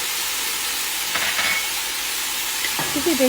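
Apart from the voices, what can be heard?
crushed garlic and hot pepper frying in pan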